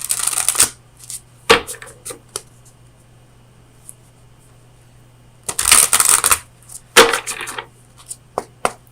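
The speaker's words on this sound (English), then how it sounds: "let me get you an oracle card from the Oracle of Visions" Oracle cards from the Oracle of Visions deck are shuffled by hand for a tarot reading, with close, crisp riffling bursts and taps that come in clusters separated by short quiet pauses.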